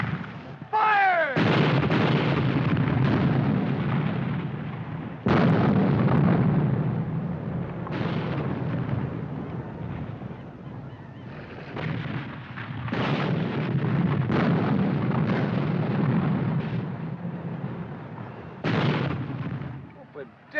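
Artillery guns fire on command during a Civil War battle, heavy booming blasts recurring every few seconds with long rumbling tails that keep the whole stretch loud and dense.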